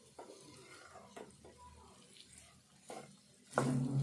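Spiny gourd pieces stirred in a pan with chilli powder and masala, giving intermittent scraping stir strokes over a soft, low sizzle, followed by a brief, louder burst of frying near the end.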